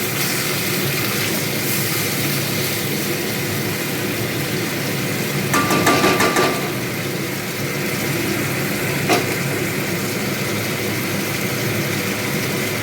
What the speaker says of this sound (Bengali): এবার আমি চিকেনটা তেলে ছেড়ে দিলাম।